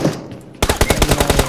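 Rapid automatic gunfire in the battle royale game BGMI, a sudden loud burst of evenly spaced shots after a brief quiet moment.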